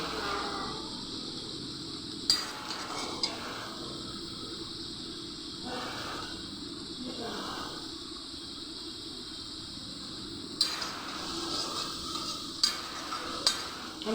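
Spice masala fries in a pan for egg curry, a low, steady hiss of sizzling oil with a few faint knocks and scrapes scattered through it.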